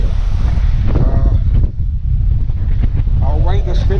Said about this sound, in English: we certainly have a very windy day in Florida here today